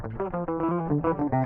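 Clean direct-input rhythm guitar signal from a metal session, unamplified and dry, playing a short run of plucked notes and chords at moderate level for about a second and a half, with no voices.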